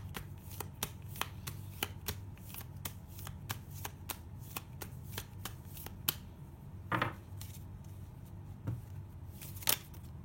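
A deck of tarot cards is shuffled close up in a rapid series of crisp riffling snaps and flicks, a steady rhythm early on, then a few louder, more scattered shuffles near the end, with no speech.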